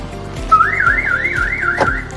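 A Blackcat car alarm answers a remote unlock with a short warbling electronic chirp that rises and wobbles for about a second, loud and close, amid a low ticking background.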